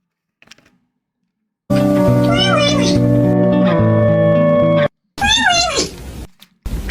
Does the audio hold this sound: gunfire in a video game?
no